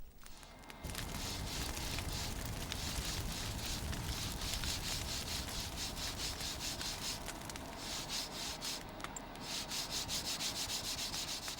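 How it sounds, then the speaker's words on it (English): Steady rasping strokes of filing and sanding a wooden handle into shape, repeated rhythmically and close up, with no talking. "there is the laborious process of filing and sanding the handle into shape"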